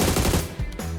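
Rapid automatic gunfire in the PUBG Mobile Metro Royale game, a loud, close burst of several quick shots fading into a short tail.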